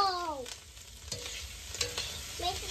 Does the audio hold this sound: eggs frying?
yes